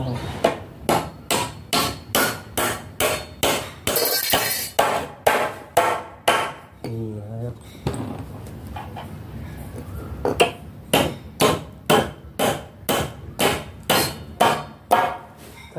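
Repeated sharp hammer blows drive nails into a door frame being fixed to concrete, in a steady, quick rhythm, pausing briefly midway before the pounding resumes, close and loud.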